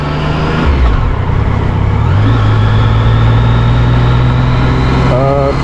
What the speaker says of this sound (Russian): досталась мне вот такая вот Yamaha сегодня покататься